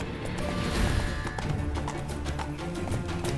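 Geralt's horse Roach gallops in The Witcher 3, with steady rapid clip-clop hoofbeats running continuously under rumbling game ambience, loud and close throughout.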